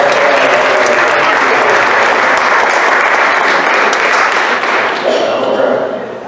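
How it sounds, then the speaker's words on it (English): An audience claps steadily and loudly for a group of trainers at a training session, the dense applause holding for several seconds before tapering off near the end. "Let's give them a big round of applause."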